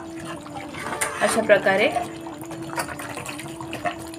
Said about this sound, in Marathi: जो आपण रस्सा बनवलेला होता त्याच्यामध्ये हे सर्व आपलं जे सूप आहे ते टाकून द्यायचं आहे